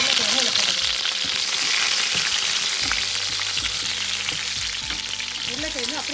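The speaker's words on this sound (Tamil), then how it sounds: "உருளைக்கிழங்கு அப்படியே எண்ணெயிலே கொஞ்சம் பொரிக்கும்." Boiled, peeled small potatoes fry in hot oil with dried red chillies for a spicy potato roast. A steady, close sizzle runs throughout, with a few soft stirring knocks from the pan.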